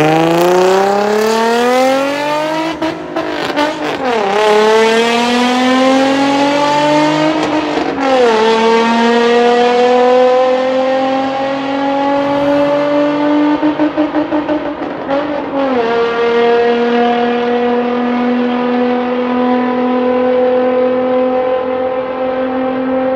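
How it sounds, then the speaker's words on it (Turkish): Nissan 350Z fitted with a GTR exhaust, revved repeatedly with loud rising and falling engine sweeps, brief drops between pulls, and the strong exhaust note dominating throughout with no talking. "Ama 350Z'de GTR egzoz olacak."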